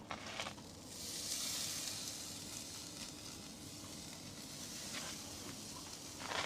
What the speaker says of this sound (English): So I'm going to stick the steak on now.